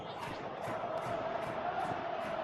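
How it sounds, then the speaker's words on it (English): A stadium crowd in the football game PES 2025 on PS3 roars in a continuous, moderately loud cheer with rising and falling swells over about two and a half seconds. "Crowd appreciates good football all round there."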